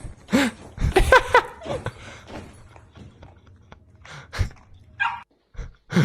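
A dog barks several times in short bursts, fairly close, with quieter voices and household noise around it.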